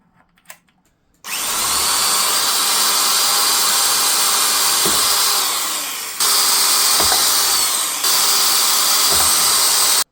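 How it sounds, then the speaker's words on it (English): A power drill whirs in long, loud bursts after a brief quiet start, with short pauses and small clicks between runs as it bores holes in an RC semi truck for exhaust stacks. "before I fire through it with a drill"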